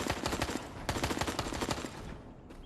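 Rapid bursts of gunfire from the survival game Fear the Night, with dense overlapping shots while enemies are hit, loud and continuous before trailing off near the end.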